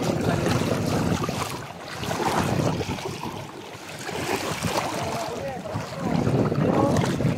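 Wind gusts steadily across open sea beside a small boat, a broad rushing roar that swells and eases in waves, with faint water wash underneath and no clear talking.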